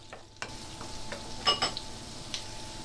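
Spring onions sizzling and heating in a pan, with a soft steady fry broken by a few stirring scrapes and clicks, close and moderately loud.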